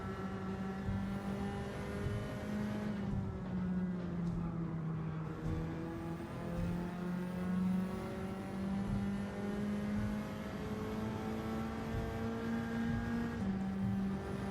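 Race car engine in Gran Turismo 7, a steady droning note that shifts pitch slightly as the car rolls toward the start line, heard on its own without talk.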